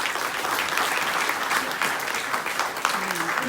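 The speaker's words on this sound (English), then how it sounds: "A big round of applause for the Guru." Applause for a guru at an Indian stage event, a dense steady clapping from a crowd that carries on unbroken for the whole stretch, moderately loud and close.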